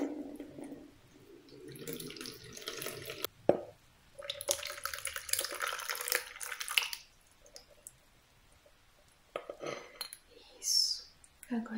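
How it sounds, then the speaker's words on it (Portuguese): Pure water is poured at close range during a quiet holistic massage session, heard as soft intermittent trickles and splashes broken by brief silent pauses. "Então, vou colocar água pura."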